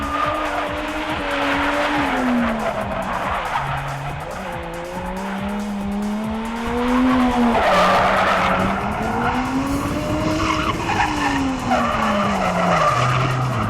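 A 1989 Nissan 240SX drift car skidding hard, its engine note rising and falling under a long continuous tire squeal that builds as the car spins out, loud and close throughout.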